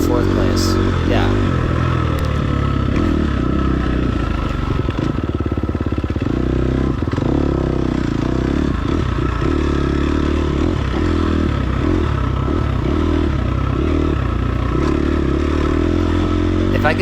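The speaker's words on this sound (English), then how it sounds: "If I could just stop flipping that throttle and just hold it, it would be great." A racing motorcycle engine runs loud and close throughout as the rider repeatedly snaps the throttle on and off, producing choppy, uneven bursts of revving rather than a held note, with some talk faintly underneath.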